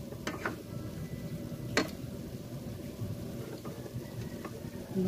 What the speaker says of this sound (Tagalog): At aking muna halo-haloin.